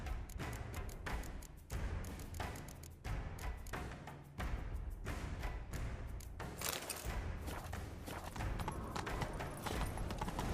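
Horse hooves galloping in The Witcher 3 video game, rapid rhythmic thudding clip-clop beats, continuous and fairly close, with occasional heavier thumps.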